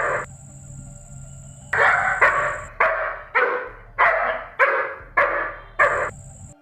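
German Shepherd barking at house thieves over a fence, a string of eight loud, deep barks in a steady rhythm after a short lead-in, close by with a faint high tone in the background.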